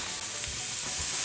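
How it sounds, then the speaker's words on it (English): Ginger and garlic fry in a pot with a steady, close sizzle: an even hiss that holds for a brief moment with no voices. "And you're gonna cook the ginger and the garlic until it's fragrant, and you don't want the garlic to burn."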